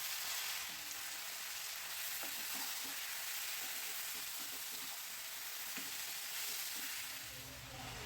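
A fish head and bottle gourd frying in a pan with a little oil: a continuous bright sizzling hiss, close and even, with soft stirring knocks underneath.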